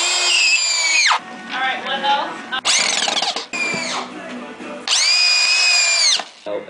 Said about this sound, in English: we're being left with the most violent drill ever